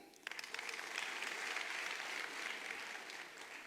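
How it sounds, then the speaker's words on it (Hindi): An audience bursts into hearty applause at an auction-style gathering, a sustained rush of clapping that swells quickly after a quiet start and holds steady before easing slightly, heard from within the room. "जोरदार ताली"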